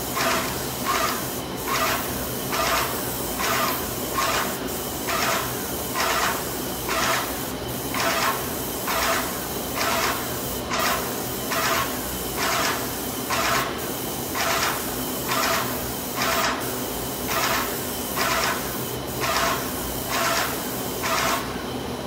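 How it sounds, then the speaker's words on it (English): Paint spray booth running while a door is spray-painted: a continuous ventilation hiss with bursts of spray gun hissing that repeat at an even rhythm of roughly one every 1.5 seconds, loud and close. "All right, you can see Brandon turned off the spray booth there."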